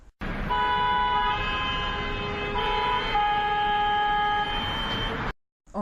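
A car horn sounds in a sustained, loud honk lasting about five seconds, with a brief shift in pitch partway through, then cuts off into silence.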